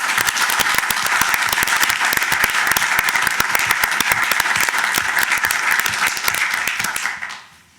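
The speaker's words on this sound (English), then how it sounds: "to do a quick round of applause for everybody who made this possible." A crowd applauding steadily, dense continuous clapping that stays loud throughout before tapering off at the very end.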